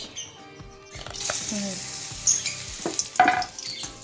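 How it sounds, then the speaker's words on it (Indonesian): Garlic sautéing in a pan for spaghetti aglio e olio, a steady sizzle with clinks and stirring scrapes, a few brief voice sounds mixed in. "kita tumis bawang putih"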